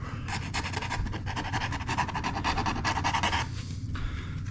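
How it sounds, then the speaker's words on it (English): Hand tool chamfering and cleaning up the edges of a drilled hole in a Gibson SG guitar body, a rapid rhythmic rasping scrape repeated steadily for several seconds, close and fairly loud. "Clean up these edges. Get a little bit of a chamfer here."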